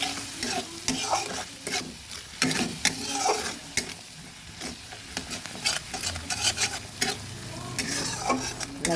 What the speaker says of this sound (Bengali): মশলাটা ভাজা হওয়ার জন্য দিয়ে দিলাম আরেকটু তেলটা দিয়ে যাব